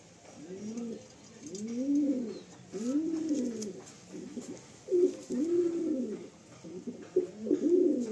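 Pigeons in a loft, including an old hen, coo in a series of soft, rounded, rising-and-falling calls close by, repeating in steady bursts with brief pauses and no talking.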